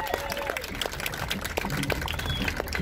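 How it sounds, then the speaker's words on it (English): An audience claps for competitors at the close of a bracket finals, scattered, uneven applause with crisp individual claps, mixed with crowd noise and some voices. "Another round of applause for all of our competitors in the bracket today"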